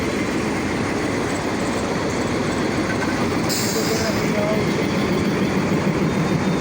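Nakshikantha passenger rake hauled by locomotive 6601 arriving at the Saidpur railway workshop, a loud continuous roar of rolling wagons and rail noise with a brief high squeal partway through.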